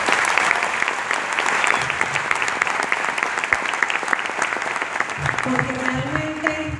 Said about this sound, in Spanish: quiero que hoy me ayuden a darle un fuerte aplauso a Andrés Guzmán y Angélica Silva